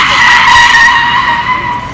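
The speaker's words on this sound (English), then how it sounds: "we're going outside to get a closer view of the cars drifting" Loud, continuous tire squeal from cars drifting at a Japanese drift event, a sustained high screech with engine roar underneath, heard close up without talk.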